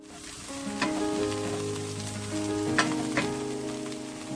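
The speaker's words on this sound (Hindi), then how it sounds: "अनियंस डालकर हम अनियंस को थोड़ा सा 2 से 3 मिनट तक फ्राई करेंगे" Onions sizzling and frying in a pan for a chicken patties filling, a steady close crackle with a few brief stirring clicks and no talk.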